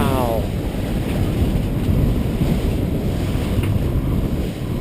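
A sailing boat under reefed main and half a jib in 20-plus knots of wind takes a big ocean wave, a loud steady rush of water and wind noise filling the whole stretch with no pause.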